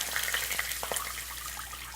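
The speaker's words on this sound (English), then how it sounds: "So after the garlic's golden brown, you want to add in the water." Water pours gently into a pot of golden-browned garlic for Vietnamese hot and sour chicken soup, a soft continuous splashing and sizzling hiss close by, fairly quiet.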